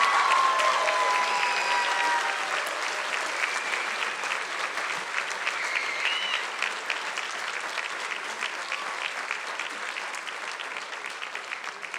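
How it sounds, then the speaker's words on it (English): Sustained applause fills the hall at the 2017 UCI Law commencement, a broad crowd clapping steadily for over ten seconds while the volume eases slightly toward the end. "Another round of applause for the wonderful UCI Law Class of 2017."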